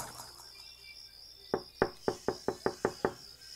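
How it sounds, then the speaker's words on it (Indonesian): A hotel room door is knocked on eight times in an even, steady rhythm, close and crisp, over a thin insect-like night hum, as a radio drama sound effect. "Ketukan pintunya terus berulang-ulang, seakan memaksaku untuk bangun"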